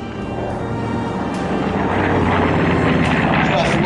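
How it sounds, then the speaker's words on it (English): Radial piston engines of a B-25 Mitchell bomber on a low strafing pass with bomb bay doors open, a loud, steady, rumbling drone that swells slightly as the aircraft draws nearer. "Just listen to the sound of those radial engines going."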